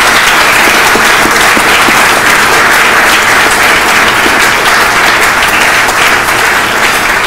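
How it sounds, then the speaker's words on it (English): Very loud, sustained applause from a symposium crowd for five finalists at the MIT Sloan CIO Symposium, a thick, unbroken roar of clapping lasting several seconds. "can I just have one more round of applause for all five of our finalists?"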